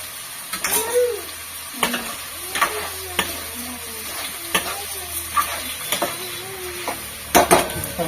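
Tomato and masala fry in oil for chicken pulao, a steady close sizzle broken by repeated scraping stir strokes and a few faint squeaky scrapes from the pan.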